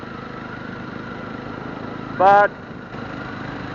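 A six-speed motorcycle with a torquey engine similar to the Mahindra Mojo's, running steadily while being ridden at around 40–50 km/h on a road, under a rider's narration, with a brief louder burst partway through.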